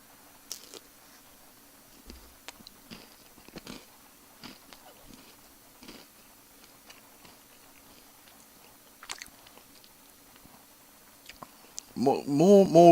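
Crunchy bites and chewing of a pretzel, peanut butter and chocolate bar, soft irregular crunches close to the microphone, ending in a louder burst of handling noise.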